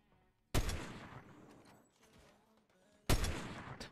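Two sharp, loud gunshots about two and a half seconds apart in the video game Fortnite, each with a booming decay and faint game noise between.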